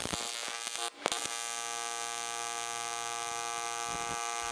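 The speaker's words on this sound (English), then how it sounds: "So this is the speed that I like to weld aluminum at." Steady AC TIG arc buzzing on aluminum with filler rod added, a continuous electrical hum with many harmonic tones, close and even after a brief break near the start.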